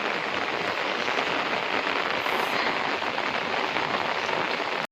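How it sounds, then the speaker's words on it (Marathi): Fine, light rain falls in an even, unbroken patter in a village in the morning, holding at the same level from start to finish. "एकदम बारीक बारीक पाऊस पडते"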